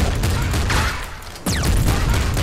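Heavy rapid gunfire from the Gatling Slugger in the video game Nuclear Throne, a dense loud barrage with a short dip partway through, mixed with game effects and no talk.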